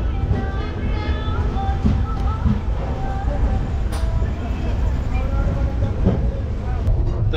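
Inside the 12346 Saraighat Superfast Express from New Jalpaiguri to Howrah, a steady loud rumble and rattle of the running train fills the carriage, with occasional clicks and faint voices underneath.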